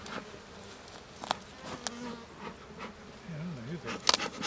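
Honey bees hum steadily around an open beehive while a new box is added, a soft, close buzzing with faint rising and falling wingbeat tones and a few light knocks.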